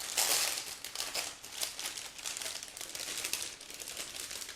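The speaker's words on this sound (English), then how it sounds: "we take this plastic bag, then we open it" Steady crinkling and rustling of a thin plastic bag being opened, holding plastic parts of an ICM 1/32 I-153 model kit, close to the microphone, continuing for several seconds with no voices.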